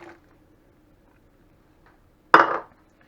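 Carrots dropped into a pot of chicken noodle soup, landing as one short, fairly loud splash-clatter after near silence, with a faint tick earlier on.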